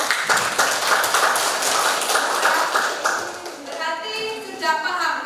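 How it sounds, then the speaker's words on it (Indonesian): Students in a classroom clap together in a quick, dense patter that lasts several seconds and then fades, with children's voices chattering as it dies down. "Tuh, tepuk tangan."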